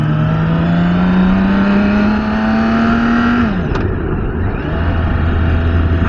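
BMW K 1600 B sport-touring motorcycle riding over heavy bumps, its engine droning loudly and steadily with a rising pitch that drops away sharply near the end, close and continuous under wind noise.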